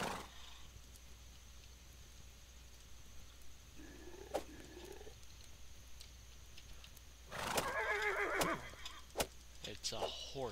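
A horse in the video game Starbound lets out a short whinny, followed a few seconds later by a louder, busier burst of animal calls over a low, steady game background.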